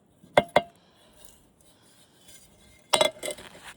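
Steel cans having their tops and bottoms cut off, heard as two sharp metallic clinks close together, a quiet scraping stretch, then another cluster of clanking metal strikes and rattles near the end.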